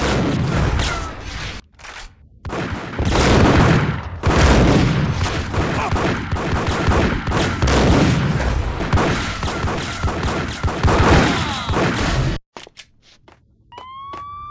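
Gunfire in the Max Payne video game rattles loudly in dense bursts of rapid shots and booms, nearly continuous for several seconds before cutting to quieter game sounds.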